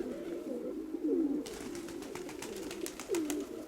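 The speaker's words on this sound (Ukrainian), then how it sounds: "Ось мій 18-й голуб." A domestic pigeon cooing in soft, rolling bursts, a couple of low throaty coos standing out over a steady murmur, with faint rustling and outdoor noise around, in sunshine.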